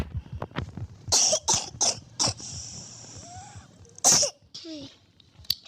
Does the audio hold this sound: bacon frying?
no